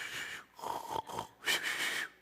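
A storyteller's voice imitates snoring, a couple of drawn-out raspy inhale and exhale snores with short pauses between, close and fairly soft.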